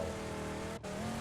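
Car engine drones steadily with tire squeal and skidding in PUBG gameplay, loud and continuous with a brief dip near the end.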